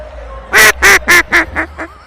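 A person imitates a duck, giving six loud quacking calls in a quick series that fade slightly toward the end, with no other talk.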